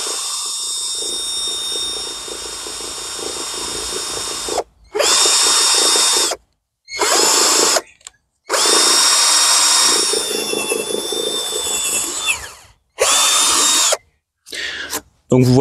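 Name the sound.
power drill drilling holes in wooden pallets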